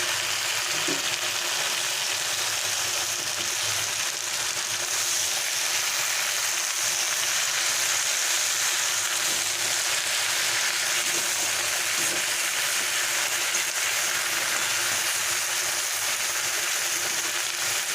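Bottle gourd greens fry in a pan of hot oil, giving a steady, close, unbroken hiss and sizzle with a few faint clinks, sounding alone for the full stretch.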